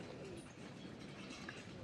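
Racing pigeons coo softly in a brief, low murmur, a faint, continuous rumble of several birds nearby.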